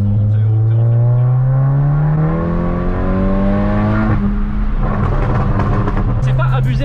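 A Volkswagen Golf 7 GTI tuned to stage 2 with about 350 horsepower accelerates hard, its turbocharged engine note rising steadily through the revs before a gear change, loud from inside the car while people talk over it.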